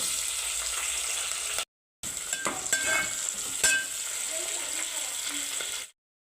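Mustard seeds, cumin, onion and green chilli sizzle in hot oil, giving a bright, steady hiss with scraping stir strokes and small pops, cut by a brief gap of silence.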